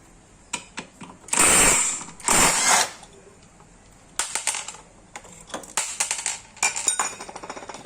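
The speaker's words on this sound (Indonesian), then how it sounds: "Untuk ngebuka, saya pakai impact aja biar lebih cepat." Two loud, short bursts of an impact wrench rattle close by as the bolts on a motorcycle pulley come loose after a flood, followed by clicking and clattering of tools and parts being handled.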